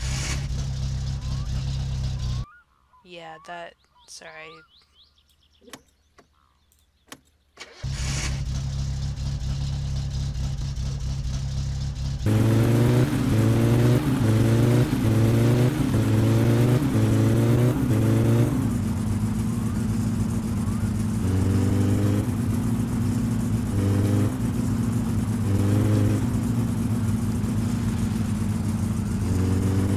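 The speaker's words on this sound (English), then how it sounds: "Start the car." A car engine in the video game My Summer Car starts and then revs repeatedly in rhythmic bursts over a steady idle, loud and close, with a brief quiet gap and a few spoken words early on.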